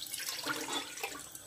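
A brief splash of water poured into a cooking pot while measuring a cup for a kokoro snack batter, a short close-up gurgling pour.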